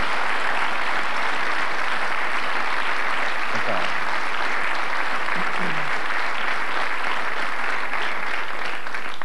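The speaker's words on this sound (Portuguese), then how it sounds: "Uma salva de palmas para ele." Loud, sustained applause from a studio audience at a Portuguese television talk show, a dense wash of clapping filling the whole stretch with faint voices beneath.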